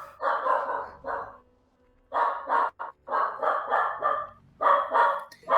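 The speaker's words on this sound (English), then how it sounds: "that is my dog Widget barking." A pet dog named Widget barks in repeated bursts of short, sharp yaps, with clusters separated by brief pauses, fairly close and clear over a quiet background.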